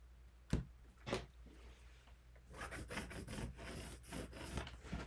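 Chalk scraping a straight line across a leather wallet piece, a few short separate strokes followed by a longer run of rapid rasping scratches, close and fairly quiet.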